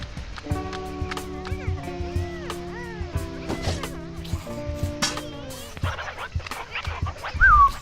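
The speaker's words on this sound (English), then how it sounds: "Hey Doggy Poggy, yeah boy" Dog whimpering and yipping in a video game, a few short high cries and barks over layered game music and effects, with a louder yelp near the end.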